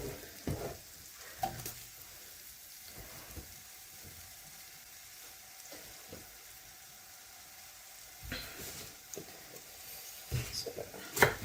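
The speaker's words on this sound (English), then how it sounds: "So I'm just going to dump the onions I did already in there." Sliced onions sizzle softly in a pan over medium heat, a low steady crackle with occasional louder scrapes and stirring bumps, no voices.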